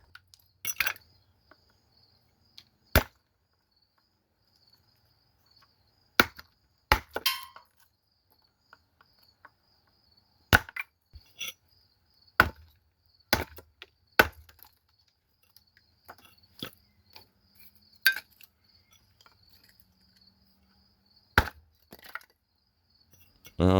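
Small pieces of firewood are split finely for a tiny camping stove, giving scattered sharp cracks and clacks of a blade on wood with long quiet gaps between them, close and isolated.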